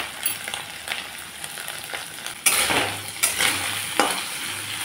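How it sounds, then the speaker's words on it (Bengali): Dried fish fries in oil with turmeric and salt, a close, constant sizzle broken by louder bursts of stirring and scraping against the pan. "একটু কড়া করে ভেজে নিলাম"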